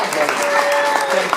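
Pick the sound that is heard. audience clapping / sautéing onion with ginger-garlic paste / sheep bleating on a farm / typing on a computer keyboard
audience clapping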